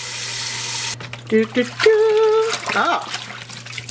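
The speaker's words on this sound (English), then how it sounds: "I'm gonna rinse out the soap now." Soapy, freshly kettle-dyed pink yarn is rinsed under a running tap: a steady rush of water for about a second, then a person talks over quieter splashing.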